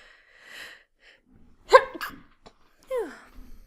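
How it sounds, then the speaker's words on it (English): A single close, sharp sneeze bursts out after a faint breathy buildup, followed by a short exhale and a rising vocal sound. "I'm going to sneeze. I can feel it coming on."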